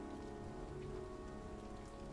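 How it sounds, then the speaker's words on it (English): Steady rain pattering on surfaces in the video game Heavy Rain, a continuous, even downpour throughout with no voices. "The rain effect, I guess."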